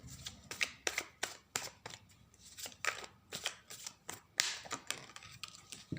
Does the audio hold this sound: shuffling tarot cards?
yes